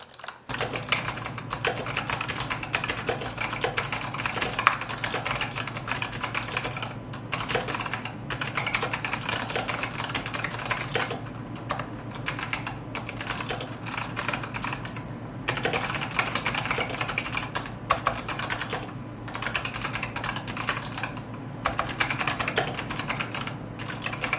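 Steady, continuous typing on a mechanical keyboard during a key stroke test, keys clacking rapidly and evenly throughout with no talking, close up.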